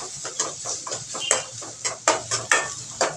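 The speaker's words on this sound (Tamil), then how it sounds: "கொஞ்சம் ஃப்ளேமை கூட்டி வச்சுட்டு வெங்காயத்தை நல்லா வதக்கிட்டே இருக்கணும்." Chopped small and large onions stirred and sautéed in a pan over raised flame, with repeated scraping and clinking of a spoon against the metal in a quick, uneven rhythm over a soft sizzle.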